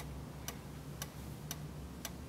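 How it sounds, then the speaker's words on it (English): A metronome ticks steadily, four crisp, evenly spaced clicks about half a second apart, heard alone over a soft room hum. "Just listen to the ticking of the metronome."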